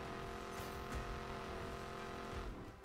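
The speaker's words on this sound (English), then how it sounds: "this car sounds so good" A car engine in Need for Speed Payback roars steadily at high revs, a continuous loud drone with slight pitch shifts and a faint tire squeal near the end.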